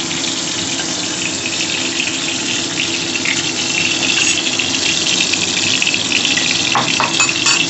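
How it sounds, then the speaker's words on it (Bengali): Cauliflower frying in a pan gives a steady, loud sizzling hiss that carries on without break, close up and with no talk. "একদম লাল কড়া করে ভাজবো না ফুলকপি হয়ে গেল ভাজা"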